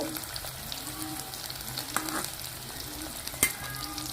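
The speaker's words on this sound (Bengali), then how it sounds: "ওখান দিয়ে আমার পেঁয়াজটা ভাজা হচ্ছে" Chopped onion frying in a pan, with a steady crackling sizzle underneath and occasional spatula scrapes and clinks against the pan.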